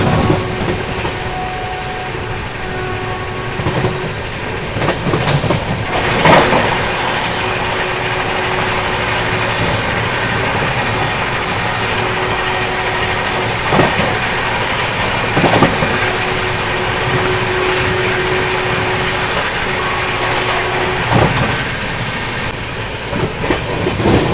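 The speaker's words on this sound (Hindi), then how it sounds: "अभी देखो गंगा कावेरी के साथ क्रॉसिंग होने वाली है, सामने खड़ी हुई है।" Indian express trains crossing as the Ganga Kaveri Express stands alongside: a steady, loud rail rumble with a continuous engine drone and occasional clacking and thumps throughout, with no voices.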